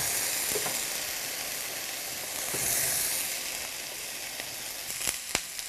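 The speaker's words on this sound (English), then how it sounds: "to that oil, we're going to add 2 cloves of garlic" Two cloves of garlic sizzle steadily in hot oil in a pot, a continuous bright frying hiss with a few small pops near the end.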